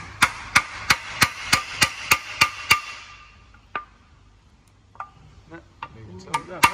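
Nine sharp metallic hammer taps on a spare engine oil sump in a steady rhythm, followed by a few scattered knocks and clatters, close and fairly loud.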